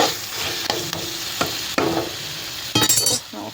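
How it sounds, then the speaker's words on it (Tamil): Eggplant for kathirikai kaara kulambu being sautéed in a pan, a close sizzle broken by several rhythmic spatula scrapes and a brief metallic clink near the end, with no talking. "நல்லா வதக்கி விடுங்க"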